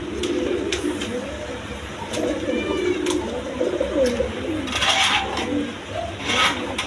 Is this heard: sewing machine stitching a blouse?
no